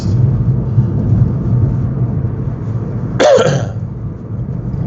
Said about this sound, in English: I'll see when I cough if the sound level is okay also